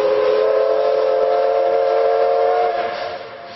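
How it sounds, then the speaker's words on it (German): A steam train whistles as it pulls into Kanaya station in Japan. The long, loud, steady tone holds for about three seconds before fading. "Und hier kommt er endlich, der erste Dampfzug des Tages."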